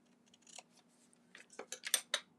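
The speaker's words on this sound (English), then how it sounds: "I am just going to use my scissors and hope and pray I cut straight." Scissors snipping through paper while a flip flap mini album is being made, a run of crisp cuts that speed up and grow louder toward the end, close and alone with no talk.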